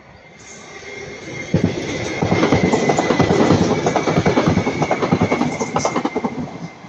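A Class 331 electric train, unit 331-103 out of Manchester Piccadilly, passes near Ardwick: a rumble builds, then a loud, close, rhythmic clickety-clack of wheels over rail joints with a thin metallic squeal, fading slightly at the end.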